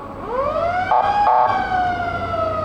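An ambulance siren wails, rises and holds, with a brief electronic yelp burst in the middle, loud and fairly close, at a town parade.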